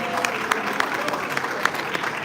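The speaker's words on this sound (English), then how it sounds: "So let's give him a round of applause." An audience at a business plan competition claps in a short, moderately loud round of applause with a few sharper claps standing out, and voices murmur underneath.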